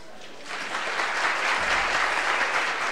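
A theatre audience breaks into applause about half a second in, a broad, steady wash of clapping and crowd noise that swells and holds to the end, with no voices over it.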